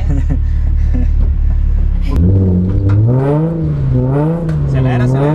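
Car engine revving hard as a driver practices drifting, a steady low rumble for a couple of seconds before voices talk loudly over the continuing engine noise.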